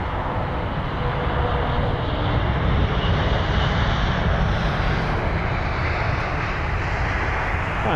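Lufthansa Airbus A320neo airliner landing at London Heathrow, a loud, close jet roar holding steady for several seconds and easing slightly toward the end.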